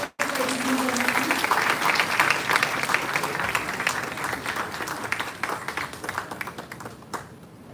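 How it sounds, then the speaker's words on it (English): A university audience gives a round of applause for Professor Manu Kapoor at a book presentation, dense sustained clapping that starts abruptly, holds strong and thins out toward the end. "Let's have a round of applause for Professor Manu Kapoor, ladies and gentlemen."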